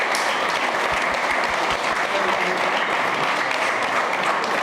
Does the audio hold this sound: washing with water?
no